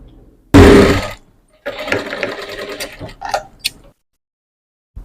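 A tailoring sewing machine stitches blouse back neck piping in one loud, short, fast burst near the start, followed by softer ticking and handling noises before it falls quiet.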